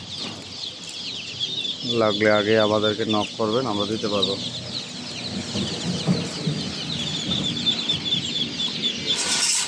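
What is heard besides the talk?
Chinese ducks at a poultry market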